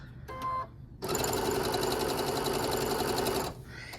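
A sewing machine stitches cotton fabric patches together in a steady, loud, continuous whir lasting about two and a half seconds, preceded by brief handling clicks.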